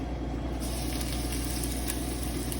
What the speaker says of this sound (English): I'm going to start by putting some oil into a saucepan. And then I'll be adding some diced onion